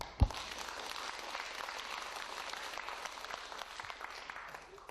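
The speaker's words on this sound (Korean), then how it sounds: "박수" Audience applause at a Korean pastor's lecture, a steady wash of clapping from a crowd with a sharp knock near the start, fairly faint and continuing evenly throughout.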